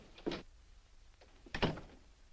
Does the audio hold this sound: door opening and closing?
yes